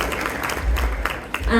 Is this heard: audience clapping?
yes